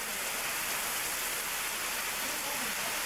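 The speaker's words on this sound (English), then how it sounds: "Have we had enough rain yet?" Heavy rain from Hurricane Bob in 1991, a dense, continuous hiss of pouring water at constant loudness, with no pauses.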